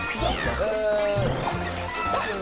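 A cat meow from the Super Mario 3D World game sounds briefly amid other game effects, partly under someone speaking.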